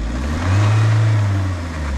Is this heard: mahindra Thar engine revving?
yes